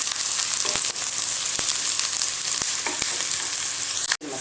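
Green chilies frying in oil in a pan for roadside-style chutney, a steady close sizzle with faint stirring scrapes and a few sharp clicks, no talking.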